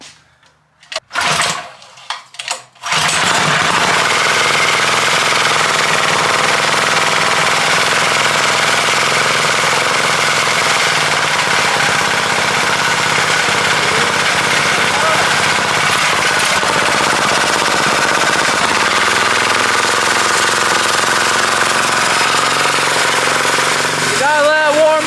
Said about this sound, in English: this is the first start on the engine I just built